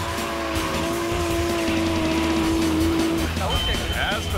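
A drift car at a D1SL competition run howls at high revs, with loud, sustained tire squeal as it slides at speed and steep angle. An announcer talks over the continuous roar.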